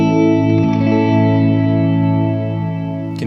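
Electric guitar through an Encounter ambient delay and reverb pedal with a medium attack setting, a sustained chord slowly swelling into a loud, washy wash of echoes and reverb, alone with no talking.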